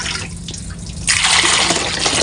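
Water pours steadily into a cooking pot to be boiled for eggs, starting as a thinner trickle and then swelling into a fuller, louder gush, close up with no talking.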